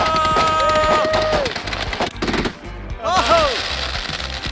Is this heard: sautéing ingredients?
no